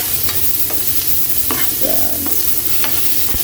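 Onions and tomatoes fry in a pan, stirred with a utensil that scrapes and clacks against the metal in a few sharp strokes over a loud, steady sizzle, close up and with no speech.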